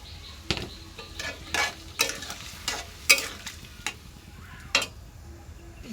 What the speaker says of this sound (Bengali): যে ফুলকপি ভাজা হয়েছে